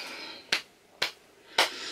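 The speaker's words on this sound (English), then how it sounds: "that's me doing a slow clap" Three slow, evenly spaced hand claps ring out sharply and close up against a quiet background.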